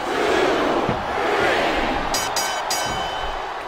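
A dense, roaring arena crowd of wrestling fans in WWE SmackDown vs Raw 2007 cheers continuously and loudly, with a sustained wash of shouting and a couple of brief bright accents near the end.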